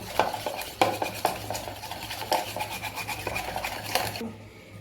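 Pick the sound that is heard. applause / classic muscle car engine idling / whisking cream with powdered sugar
whisking cream with powdered sugar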